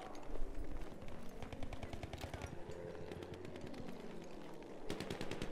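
Battlefield 1 combat gunfire: dense, rapid automatic fire mixed with single shots, loud and continuous throughout amid a busy battlefield din.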